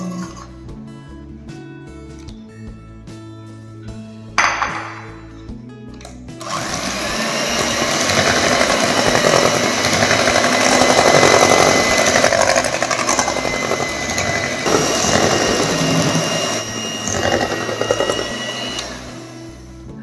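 An electric mixer beats egg into chocolate muffin batter: after a few seconds of quieter clinks, a loud, steady whirring motor starts and runs continuously to the end.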